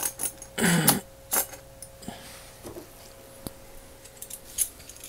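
Small metric Craftsman wrenches clink and jangle as they are handled, a few bright metallic rattles and scattered taps in a quiet room.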